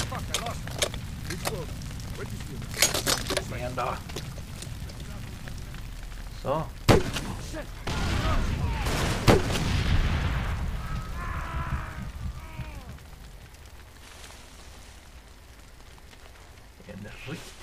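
Booming cannon blasts from the video game Far Cry 2, several heavy irregular shots with crackling debris and rumbling noise, mixed with faint voices.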